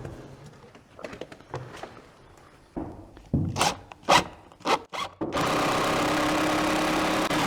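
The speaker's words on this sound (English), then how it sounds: "Then we'll put a screw in." A screw is driven in while a door is installed: scattered knocks and handling thumps lead into a loud, steady driver whir that runs without a break to the end.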